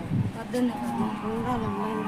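A buffalo lowing in a long, drawn-out moo, fairly close and steady, with people talking faintly nearby in a household setting.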